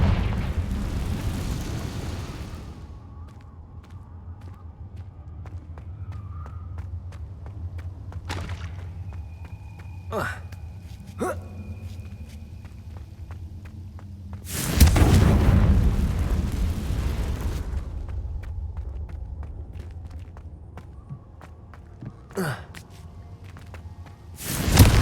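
The Confringo blasting spell explodes in the video game Hogwarts Legacy, with a loud burst near the start and a bigger boom midway, separated by sharp cracks and quieter stretches, and no talking.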